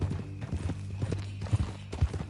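Horse hooves clip-clop at a riding pace in the Red Dead Redemption 2 video game: a steady rhythm of soft thuds under low game ambience.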